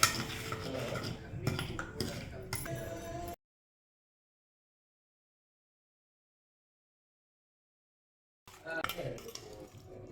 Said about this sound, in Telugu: ఇప్పుడు ఈ రసంలో ఈ ఉప్పు కలుపుండే